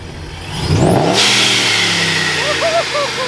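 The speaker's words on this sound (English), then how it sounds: "Oh, give me a rev." A TorqStorm-supercharged HEMI RAM 4x4 pickup truck engine revs up loudly and nearby, surging then holding a strong, sustained roar with a whining supercharger note above it.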